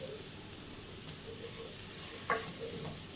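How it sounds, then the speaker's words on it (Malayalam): Tomatoes sauté in a pan for a chicken and jackfruit biryani, giving a soft, continuous sizzle with a brief stir or scrape near the end, close but fairly quiet. "ഒരു 2 മിനിറ്റ് ഈ ടൊമാറ്റോയും കൂടെ നമുക്കൊന്ന് വഴറ്റിയെടുക്കാം."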